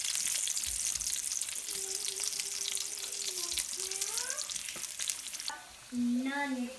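Gyro meat sizzles steadily in a hot pan, a dense crackling fry running throughout with a couple of soft clicks and a brief whistling tone near the end; no one speaks.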